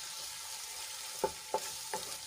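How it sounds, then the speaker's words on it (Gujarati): Spices sauté in a pan for gravy as a faint, soft sizzle, with three quick scraping stirs landing about a third of a second apart. "બધા મસાલાને આપણે એક મિનિટ માટે સાંતળી લઈશું જેથી કરીને મસાલા સરસ રીતે સંતળાઈ જાય"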